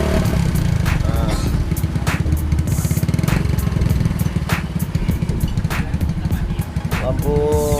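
An original Honda Win motorcycle engine running close by, a steady rapid single-cylinder putter with light throttle blips, while people talk over it.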